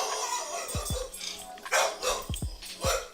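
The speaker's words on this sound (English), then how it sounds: "excuse my dog." A dog barks in several sharp bursts, some paired, fairly close, with faint background noise around them.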